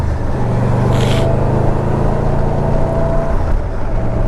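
An old Yamaha Venture V4 motorcycle decelerates under engine braking, giving a steady, loud low engine drone with rushing wind throughout, heard from on the bike.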